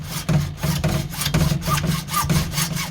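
A hand saw with an old blade cuts through PVC pipe in steady back-and-forth strokes, a loud rhythmic rasping about three strokes per second, close and alone.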